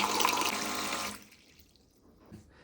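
Water pours steadily from a Xiaomi electric water dispenser pump for about a second, then cuts off, leaving faint drips and quiet room noise.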